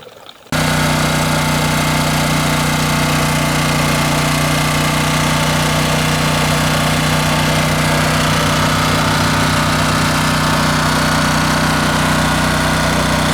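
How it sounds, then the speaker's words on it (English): A Champion portable generator, freshly filled with oil, runs at a steady loud drone just after its first start. The engine note is constant and unbroken, with no voices. "Alright, so we got the generator running."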